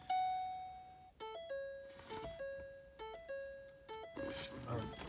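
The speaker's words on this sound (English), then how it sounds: "I should have turned off that door open chime" A 2012-2014 Ford Focus door-open warning chime repeats in a steady melodic pattern, ringing clearly in a quiet space with faint movement noises between tones.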